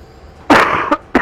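A person coughs three times at close range: one loud, drawn-out cough followed by two sharper, shorter ones.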